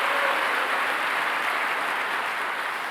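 A sustained round of clapping from an audience of married church elders at a Presbyterian retreat lecture, dense and uniform throughout with no voices over it.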